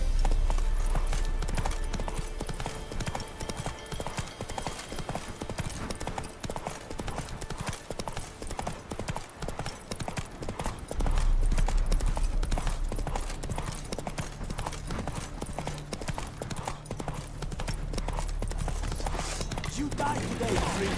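Rapid, steady clip-clop of a horse galloping in The Witcher 3 video game, hoofbeats running continuously and fairly loud under a low rumbling game soundtrack, with a brief swell partway through.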